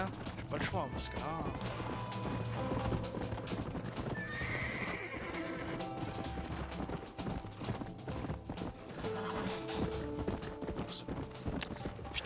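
Horse hooves galloping in Red Dead Redemption, a steady loud clip-clop run with whinnies and neighs, layered with game music and someone talking over it.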